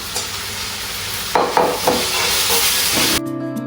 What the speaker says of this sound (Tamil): உள்ளியை சேர்த்துட்டு இது கொஞ்சம் வதங்கட்டும்